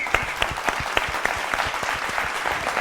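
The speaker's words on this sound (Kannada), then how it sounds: "ಬನ್ನಿ ಜೋರಾದ ಚಪ್ಪಾಳೆ." Loud, dense applause from a studio audience greets a singer taking the stage at a televised singing contest, a steady wash of many hands clapping close by with no voices over it.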